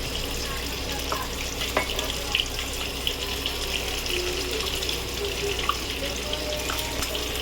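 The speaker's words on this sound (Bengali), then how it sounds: "এটা দিয়ে একটু জল দেবো বন্ধুরা।" Water poured into a pan of prawn paste cooking for a Bengali potol chingri dish, a steady running wash with faint sizzle and small clinks beneath it, close and moderately loud throughout.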